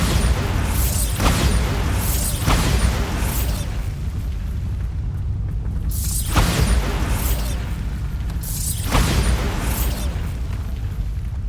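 Bombarda spell explosions in Hogwarts Legacy go off as a series of loud booming bursts at irregular intervals over a continuous rumbling game background.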